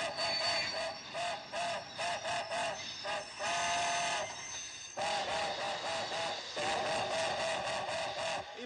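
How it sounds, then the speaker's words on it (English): A military supply train running from Kyoto to Tokyo sounds a steam whistle in repeated loud blasts, some short and some held, over the steady rumble and clatter of the rolling cars. "This is a military supply train en route from Kyoto to Tokyo."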